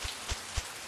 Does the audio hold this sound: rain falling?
yes